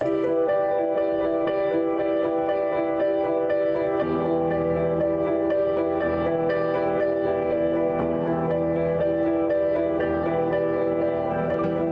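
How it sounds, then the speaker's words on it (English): A looping piano melody with a steady rhythmic accompaniment, a sampled loop from an ingredients pack in the Arcade software instrument, plays alone at a consistent level, the lower part shifting partway through and continuing to the end. "I found this lovely piano melody and rhythm from this ingredients pack in Arcade"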